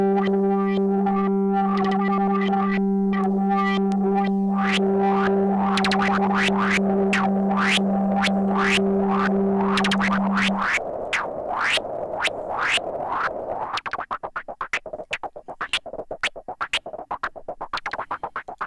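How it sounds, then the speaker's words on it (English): A Sugar Bytes Factory synth on iPad plays sequenced noise as a hi-hat: a held distorted tone with rapid pitched blips gives way to a fast, even run of crisp sixteenth-note noise ticks. "now we've got like a little hi-hat vibe going on"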